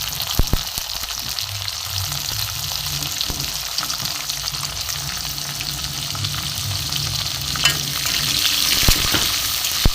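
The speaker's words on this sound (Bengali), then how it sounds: "টমেটোগুলোকে একটু ভাজা হোক।" Chopped tomatoes fry and get stirred in a pan after dry fruit, coconut, raisins, cashews and dates, for a vegetarian mixed vegetable dal; a steady close sizzle runs throughout with soft spatula scrapes, no voices.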